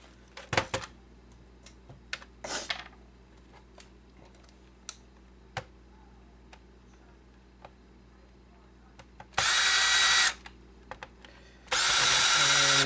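A power screwdriver backs screws out of a PlayStation 3 Super Slim console, two loud sustained whirring bursts late on, each lasting about a second, after quiet handling clicks and taps.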